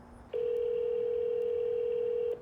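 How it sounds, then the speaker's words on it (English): An unanswered call to the St. Louis Public Schools transportation phone line gives a single steady ringback tone lasting about two seconds, clear and even, over a faint background. "all you'll get is ringing and more ringing"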